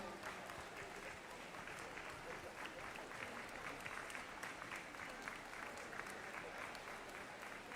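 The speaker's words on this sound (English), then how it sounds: "you can give them a jolly round of applause" Steady crowd applause fills an indoor pool hall as officials walk out at a South East Region long course swimming championships, with dense, continuous clapping at a fairly constant level throughout.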